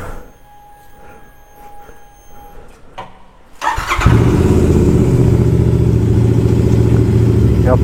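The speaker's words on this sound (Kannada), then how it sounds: "ಗುಡ್ ಸೇಫ್ ಎಕ್ಸಾಸ್ಟ್ ನಾವು ಇನ್ಸ್ಟಾಲ್ ಮಾಡಿದ್ದೀವಿ. So this very much loud." A motorcycle fitted with a Good Safe aftermarket exhaust is cold started outdoors: after quiet handling noises, the engine cranks and catches, then roars into a loud, steady, throaty idle close to the mic.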